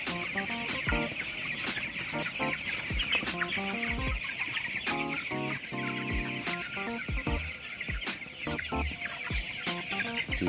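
Chickens cluck steadily and densely throughout a broiler coop, many birds close and far overlapping, over a constant background hum of fans and blowers.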